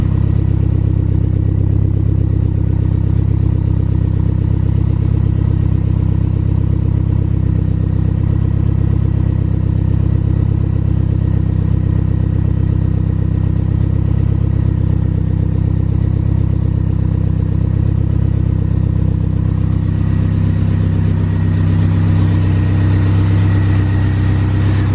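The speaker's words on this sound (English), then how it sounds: "it looks like the car started and seems to be running okay" A Mini's engine idles steadily while warming up after repair work, a constant low chugging hum with a faint rattling edge, running evenly for the whole stretch with no talk.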